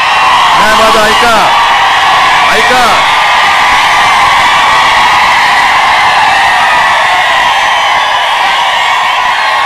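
Large crowd at a political rally in Dharashiv whooping and cheering continuously, loud and dense, with a few raised shouts standing out near the start.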